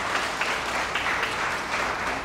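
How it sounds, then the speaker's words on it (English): Audience applause at a Department of Corrections promotion ceremony, a steady, dense round of clapping that holds evenly throughout without any talking over it. "I think we owe her a round of applause for Jewel."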